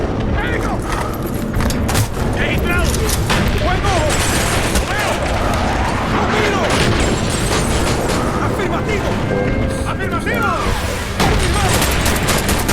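A powerful weapon in a shooting video game fires in rapid, dense bursts of gunfire and explosions that run loudly and continuously.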